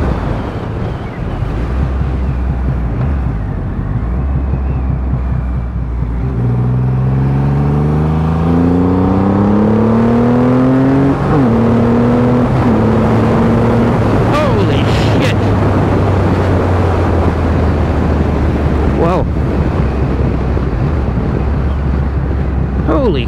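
Triumph Rocket 3 R motorcycle engine pulling hard in fifth gear at about 88 km/h, with a steady rising drone and shifting harmonics under heavy wind rush from riding at speed.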